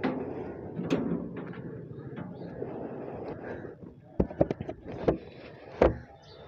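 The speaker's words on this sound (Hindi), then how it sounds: "अभी मुझे गेट खोलना पड़ेगा" A metal gate is opened outside a home before a bike is taken out, giving a run of sharp clanks and rattling knocks near the end after a stretch of low rustling background.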